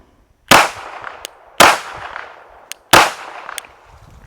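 Three sharp, loud shots from a Glock 17 Gen 5 pistol fitted with a Zaffiri Precision threaded barrel, spaced about a second apart, each with a ringing, echoing tail.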